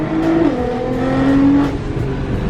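A BMW M3 accelerates hard, its engine note rising through the revs with a brief shift, loud and close as if from inside the car.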